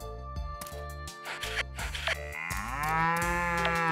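Cattle moo in the farming game Story of Seasons: Pioneers of Olive Town, with a long, drawn-out lowing call over steady, cheerful background music.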